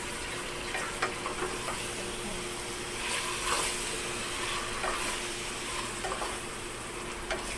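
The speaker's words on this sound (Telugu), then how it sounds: "దీంట్లో మనం ఇందాక కలిపి పెట్టుకున్న మిశ్రమం చికెన్ అనేది వేసేద్దామండి. వేసి మంచిగా కలుపుకోవాలి." Marinated chicken mixture is stirred into a hot pan for chicken biryani, giving continuous sizzling and frying with scraping spoon strokes, close and steady throughout.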